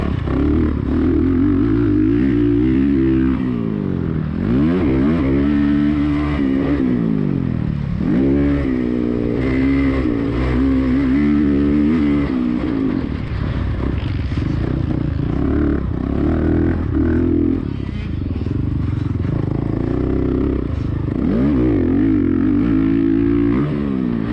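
A motorcycle lapping Aztec Raceway, its engine droning loudly throughout with rising and falling revs as it pulls through the gears and corners, alone with no voices.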